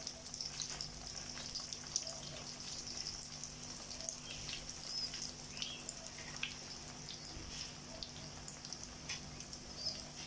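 Pieces of beef steak fry in oil, with a steady low sizzle and scattered small pops and crackles running throughout at a moderate, even level.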